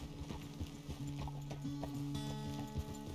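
Horse hooves clip-clop at a steady walking pace in the Red Dead Redemption video game, rhythmic hollow knocks over a low ambient bed with tonal game music in the background.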